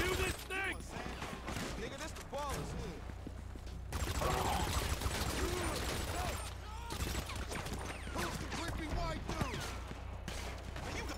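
Gunfire in the video game GTA 5 crackles in scattered shots and short bursts under excited male speech, with a denser stretch of firing around the middle, fairly quiet overall.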